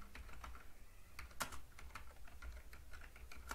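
Fingers type on a computer keyboard in a quick, uneven run of close, crisp keystrokes, with one slightly heavier key press midway, over a low background hum.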